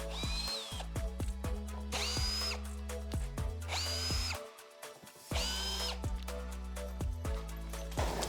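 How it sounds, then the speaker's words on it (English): A power drill whirs in repeated bursts, rising and falling in pitch as it backs screws out of a wooden farmhouse coffee tabletop, loud and close with short pauses between screws. "you can go ahead and remove these screws."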